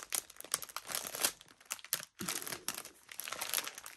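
A package is opened by hand, with steady close crinkling and crumpling of wrapping and a few tearing rips. One brief silent gap breaks the sound.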